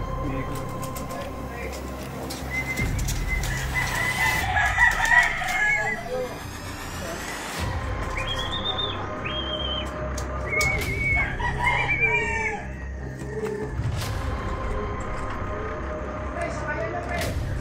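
A rooster crows several times at a moderate distance against a busy outdoor backdrop of chatter and crowd noise, with voices talking throughout.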